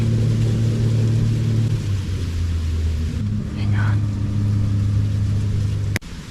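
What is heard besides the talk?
vehicle engines passing close by on a farm at night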